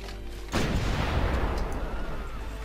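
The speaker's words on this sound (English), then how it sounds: "More bombardment. Save some air, but more bombardment." Bombardment in Civilization 5, one sudden deep boom that rolls into a dense, rumbling barrage of artillery fire and then fades slowly, loud and close, with no talk.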